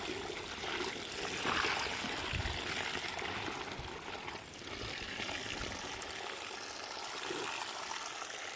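Clothes are rinsed by hand in a bucket of water during off-grid washing, making a quiet, continuous sloshing and trickling close by.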